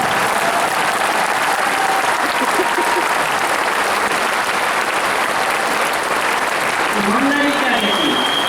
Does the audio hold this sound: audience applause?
yes